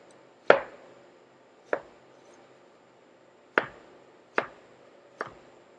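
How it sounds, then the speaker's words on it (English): A French knife chops through vegetables on a board in five sharp, separate strikes with uneven pauses between them, close and clear against a quiet room, with no one speaking. "We're going to take our French knife. We're just going to get these guys cut up quick."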